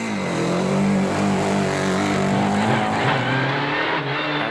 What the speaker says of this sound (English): Away they go, but the Fabia S2000 sounding like it's misfiring.